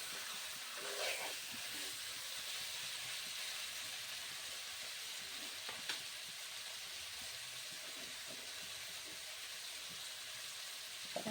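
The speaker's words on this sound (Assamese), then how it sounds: "এতিয়া মই মাংসখিনি ভালকৈ ভাজি ল'ব লাগিব" Meat frying in a pan with softened tomatoes gives a steady hiss and sizzle, with a few brief scrapes and clicks over the continuous frying noise and no talk.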